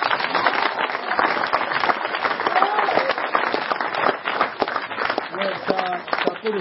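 A congregation applauds and acclaims the Lord at a church gathering where a gift is made to children in Zaroko, with sustained dense clapping and cheering from a large crowd filling the whole stretch.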